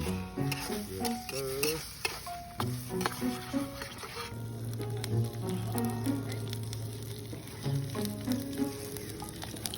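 Breakfast frying in oil in a non-stick pan at a campsite, with a steady sizzle and occasional stirring and utensil scrapes running close and continuous throughout.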